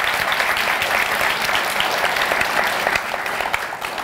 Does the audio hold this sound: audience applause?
yes